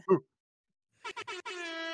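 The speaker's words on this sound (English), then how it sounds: "give me that air horn" A brief sound, a pause, then three short air horn bursts followed by a longer sustained blast, loud and close.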